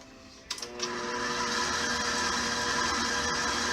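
An electric mixer whirs to life after a few clicks and then runs at a steady, loud drone as it mixes flour, salt and soda for banana bread.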